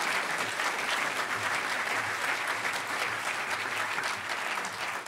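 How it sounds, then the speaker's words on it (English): A large conference crowd at the Hackers On Planet Earth 9 closing ceremony claps loudly and continuously, dense even applause filling the room throughout. "So everybody give Aesthetics, one of the organizers, a really huge round of applause for taking over at the last minute."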